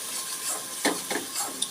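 Spice paste mixed with cashew paste being stirred in a frying pan, a soft continuous sizzle broken by a few scraping stir strokes, close and fairly quiet with no talking.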